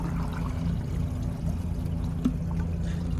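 A 2014 Sterling Windham toilet flushes during a clog test with debris caught at the start of the trapway. Water rushes and pours steadily and fairly close.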